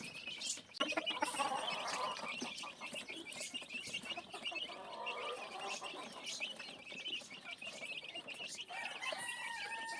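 Hungry young chicks cheep and peep continuously and fairly close, with a hen clucking among them, in a backyard coop where the chicks were weaned early so the hen can lay again.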